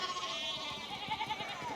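Sheep bleat in the game Pentiment, a few wavering cries close by over a low outdoor background, with no one talking.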